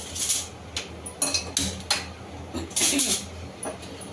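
A pressure cooker is set down on a kitchen stove, giving several close metallic clanks and knocks of cookware at uneven intervals, fairly loud against a quiet background.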